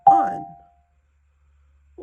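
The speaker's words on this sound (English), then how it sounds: "you get to play with your mallets, hands together on any two bars at the same time." A single mallet strike on two tuned bars of a bar instrument at once rings briefly and decays into silence, with another sound starting just at the end.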